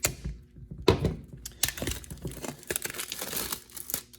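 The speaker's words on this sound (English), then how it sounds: "Let's go ahead and cut the shrink wrap." A knife slices and peels crinkly plastic shrink wrap off a 1MORE true wireless earbuds box, giving close, quiet crackles, scratches and small tearing sounds in an irregular rhythm.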